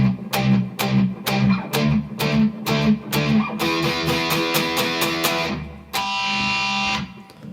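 A distorted electric guitar plays chugging, palm-muted hits in a steady rhythm, then sustains a ringing, crunchy chord near the end.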